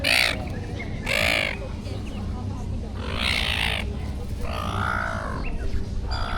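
Several harsh, crow-like caws and squawks from birds near Cairns, Australia come in separate loud bursts close by, with a low background murmur between the calls.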